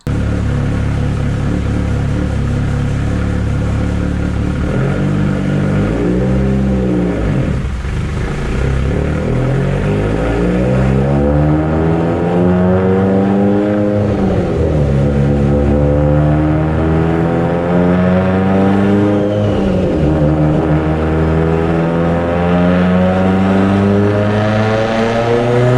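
A turbocharged Mitsubishi Evo X with Manley H-beam rods, Wiseco pistons and a Precision turbo revs hard through repeated rising pulls, its engine note climbing in pitch, dropping at each shift and climbing again, loud and close with no talk.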